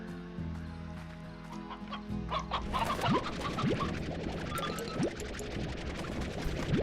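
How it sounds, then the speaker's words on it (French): Several chickens in the video game Slime Rancher cluck and chatter steadily over a low droning musical background, with a few short rising chirps breaking through. "Il me semble qu'il y a beaucoup de poules."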